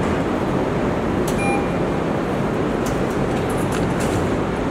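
A metro train at a station fills the space with a steady, loud rumble and hiss, with a faint electronic beep briefly sounding over the continuous noise.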